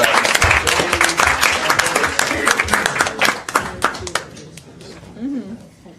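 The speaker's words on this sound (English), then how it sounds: "Let's give him a round of applause" Applause at a regular council meeting rings out as a round of clapping for a departing colleague, sharp and dense at first, thinning out and fading by the end, with a voice briefly heard afterward.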